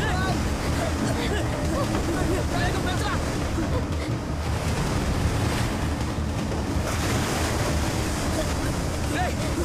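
A stormy sea from a fantasy horror adventure film roars with waves crashing steadily, a dense, loud wash of surf and wind that never lets up.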